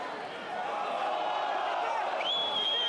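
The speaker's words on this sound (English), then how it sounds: "Crowd asking for a high shot on Delpy" Rugby crowd at a Pro D2 match between Colomiers and Brive swelling into a loud, sustained roar of appeal for a high tackle, with a commentator's voice running over the noise and a whistle tone near the end.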